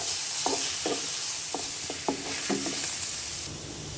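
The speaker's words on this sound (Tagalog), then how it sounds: "Uunahin ko muna ngayon igisa ang aking luya." Ginger sautés in hot oil in a pan with a bright continuous sizzle, broken by a series of short, close spatula scrapes and taps in an irregular rhythm.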